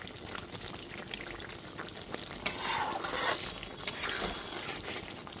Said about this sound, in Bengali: মাখনের টুকরোটা দিয়ে খুব ভালো মতো একটু মিশিয়ে নিলাম।